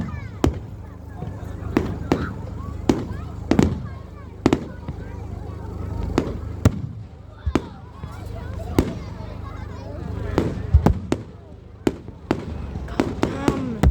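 Fireworks bursting on bonfire night, a rapid irregular series of sharp cracks and bangs at varying distances, some close and loud, others fainter, over a low crowd rumble with occasional voices.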